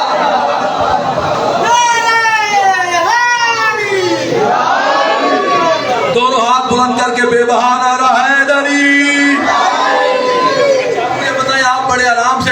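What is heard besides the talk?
crowd chanting a religious slogan at a majlis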